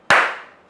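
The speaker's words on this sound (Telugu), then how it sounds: "ఇప్పుడు క్లాప్ కొడుతున్నా చూడండి." One sharp, close hand clap used to trigger a homemade clap switch circuit wired to a 9-watt AC bulb, a crisp single crack that rings briefly and fades in a quiet room.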